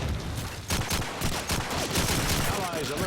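Rapid gunfire from Call of Duty 2 on the Dawnville map, dense bursts of shots and automatic fire crackling steadily at close range, with a voice talking over the action throughout.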